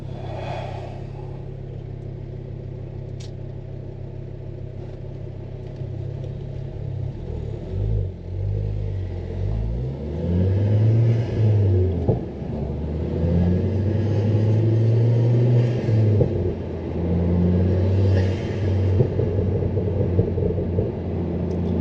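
A Ford Focus ST with a 300+ bhp tune sits idling with a low, steady burble. Uneven rumbling pulses swell slightly in its second half, heard from inside the car with no talk over it.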